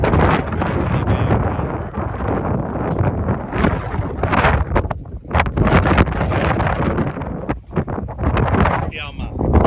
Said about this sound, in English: everything's trying to blow away on this roof right now. Windy day.